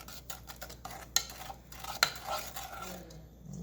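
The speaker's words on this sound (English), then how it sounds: "Mix this together." Eggs being mixed into chocolate brownie batter in a bowl: quiet soft stirring broken by two sharp clinks of a utensil against the dish, close by and without speech.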